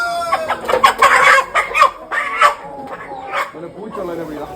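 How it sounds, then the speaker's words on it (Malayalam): A busy flock of meat chickens and roosters clucking loudly and densely in bursts, with a crow among them, close by and mixed with people talking. "ഇത് ഇറച്ചി പർപ്പസിനുള്ള കോഴികളാണ്, മുട്ടക്കോഴികളല്ല"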